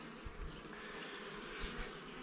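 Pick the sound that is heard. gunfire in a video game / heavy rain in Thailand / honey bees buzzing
honey bees buzzing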